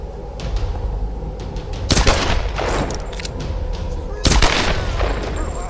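Two sharp, loud gunshots from a headshot in the video game Tomb Raider Definitive Edition, about two seconds apart, over steady low game ambience.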